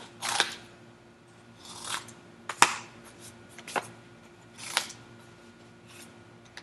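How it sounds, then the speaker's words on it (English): Several separate snips of scissors cutting pieces of paper for a collage, each a short crisp cut spaced a second or so apart, close and fairly quiet against a low background hum. "Maybe just hold it on there and cut some pieces off."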